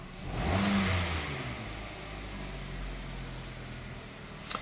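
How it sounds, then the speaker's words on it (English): Hyundai engine with a MAF sensor fault revving up briefly near the start, then settling back to a steady, fairly quiet idle rumble, heard from up close with no talk. "Let's rev it up some and see how it does."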